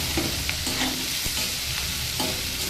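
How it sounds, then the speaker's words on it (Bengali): Taro stolons frying in a pan for a vegetarian dish, stirred and scraped now and then over a continuous close sizzle, with no voices. "কচুরলতিটা একটু সময় আমি ভেজে নিয়েছি"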